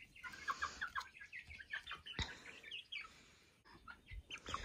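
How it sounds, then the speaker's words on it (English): Young rooster chick chattering in quick, high clucks and chirps, a steady run of short calls close by with a sharper peep midway. "He's a rooster, and he's a very chatterboxy little fella."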